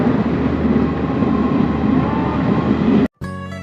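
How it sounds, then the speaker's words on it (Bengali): Kashmir passenger train pulling away from Lar Abadi station after a stop, with a steady loud rumble and wheel noise on the rails throughout, cut by a brief gap near the end before the running noise resumes. "এখান থেকে আবার ট্রেনটি স্টার্ট হয়েছে"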